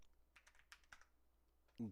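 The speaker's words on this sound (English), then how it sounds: "Jesus Christ, this keyboard, brother." Scattered soft taps on a computer keyboard in a quiet room, a handful of irregular keystrokes followed by a brief louder thump at the end.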